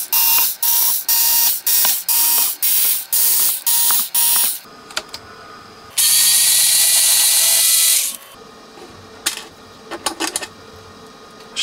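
Ratchet undoing a bolt on a transformer's magnetic shielding, a run of loud, evenly spaced clicking bursts up close, then a longer buzzing whir and scattered small clatters.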